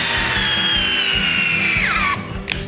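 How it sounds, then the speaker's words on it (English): A Festool T-18 cordless drill in drill mode at speed two drives a screw with a steady high motor whine that drops in pitch as the screw seats, then stops. "I'm going to keep this on speed number 2 in the drill mode"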